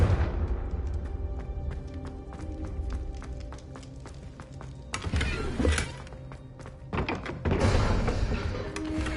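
The Confringo blasting spell in Hogwarts Legacy bursts out in two heavy booming blasts partway through, over a soft musical bed and quiet thudding.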